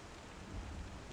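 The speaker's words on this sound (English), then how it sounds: "Oh, damn, this damn rain." Rain in the space game Star Citizen gives a short, dense wash of hiss and low rumble, steady and fairly loud for about a second.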